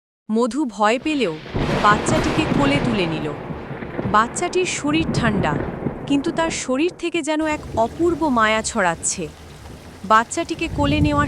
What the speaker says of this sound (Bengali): সাথে সাথে আকাশে বজ্রপাত ও বৃষ্টি শুরু হলো